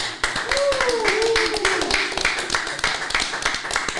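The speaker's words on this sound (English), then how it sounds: "I'm just gonna ask for a round of applause for you guys for accepting us to come here." A small group claps for Brazilian model guests on a podcast in a close, uneven burst of hand claps, with voices talking over it.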